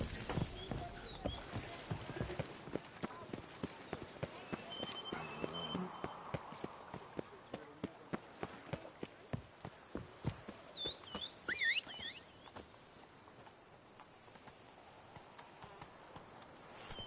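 A horse trots along in The Witcher 3, its hooves striking in a steady, crisp clip-clop rhythm that slows and thins out toward the end, with faint game ambience behind it.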